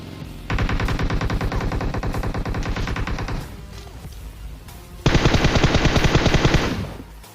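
Automatic gunfire in the battle-royale game PUBG comes as two long, loud, rapid-fire bursts separated by a brief quieter gap, with no talking.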